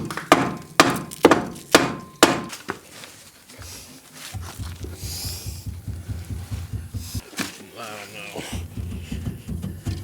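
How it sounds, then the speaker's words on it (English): A hammer strikes a stuck button on an old car that sat in a barn for 63 years. About five sharp, loud, close knocks land in quick succession, followed by people talking. "Let me go get my hammer."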